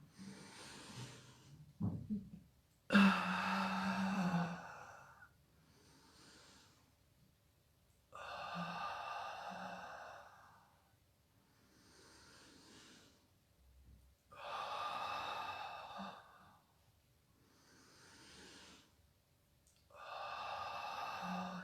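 Slow, deep breaths during a Do-In stretching exercise, several long audible inhales and exhales in a quiet room, with soft pauses between them and a sharp snort-like intake early on.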